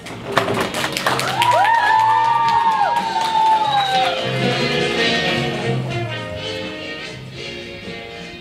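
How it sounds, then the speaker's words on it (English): Studio audience at a talk show cheering and clapping loudly for a couple, with whoops and shouts over scattered applause that gradually fades. "Please give them a round of applause."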